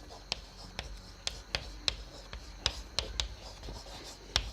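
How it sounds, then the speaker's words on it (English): Handwriting a formal letter, pen scratching across paper in short strokes with sharp taps between them, close and fairly quiet over faint background hiss. "So I am writing here respected sir"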